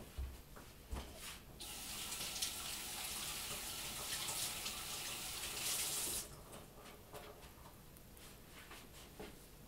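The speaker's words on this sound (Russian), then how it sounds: "Интересно, шум воды записался или нет?" Water runs hard from a tap over a sink, where a board is being rinsed during a soap-making session. The steady rushing lasts several seconds, then cuts off, leaving quiet room tone.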